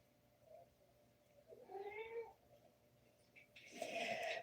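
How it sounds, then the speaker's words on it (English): A pet cat meows in the background, a couple of short, faint-to-moderate calls with a louder, brighter cry near the end, heard indoors without speech over them. "That's what my cat says in the background."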